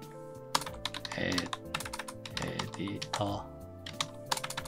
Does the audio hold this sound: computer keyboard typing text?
yes